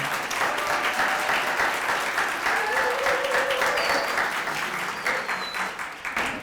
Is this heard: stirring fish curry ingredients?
no